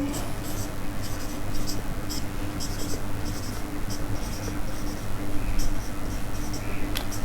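Pen writing on paper while solving a quadratic equation, a close run of rapid scratchy strokes in short bursts over steady room noise, with soft speech faintly present.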